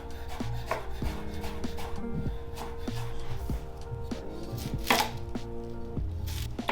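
Knife chopping carrots and onions on a cutting board while prepping a meal kit dinner, a steady run of close, crisp thuds with brief pauses and a few sharper louder strikes, no voices.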